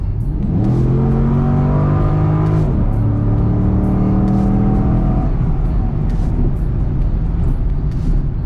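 A car with an LS3 V8 engine accelerates hard through two gear pulls, a loud, close, rising engine roar with a brief shift dip at about three seconds, then settles into a steady cruise drone.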